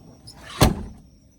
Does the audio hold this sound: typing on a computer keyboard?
no